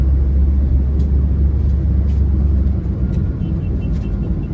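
Continuous highway traffic near Delhi rumbles loudly and steadily, a dense low roar of passing vehicles with no voices.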